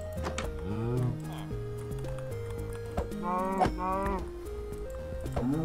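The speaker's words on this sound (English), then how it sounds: "I'm gonna have to kill these cows." Cows in the Minecraft video game moo in a string of low, drawn-out calls, several overlapping over a few seconds, with faint game sounds around them.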